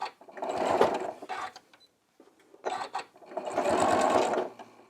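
A sewing machine stitches a quilt seam in two fast, whirring runs of stitching with a brief pause between them, close and clear.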